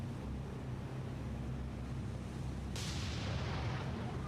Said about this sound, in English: we do have one Atlanta-class light cruiser providing her fire support